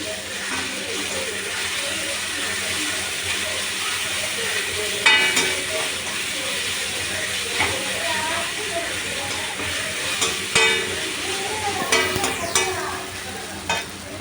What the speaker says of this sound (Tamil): இந்த வெங்காயம் நல்லா வதங்கட்டும் வாங்க. வெங்காயம் இந்த அளவு வதங்கினா போதும்.